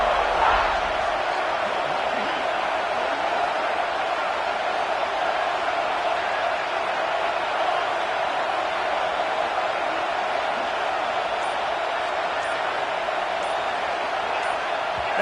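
A stadium crowd at a college football game, Vanderbilt against South Carolina, roars in a sustained, dense wall of noise from start to finish, loud and continuous.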